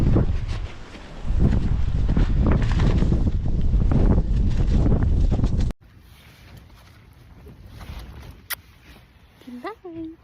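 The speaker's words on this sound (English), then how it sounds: "It's windy out" Gusty wind buffets a campsite on the Pacific Crest Trail, loud rushing bursts hitting the microphone for several seconds before dropping to a quieter background with a few faint rustles.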